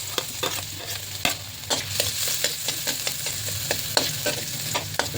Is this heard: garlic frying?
yes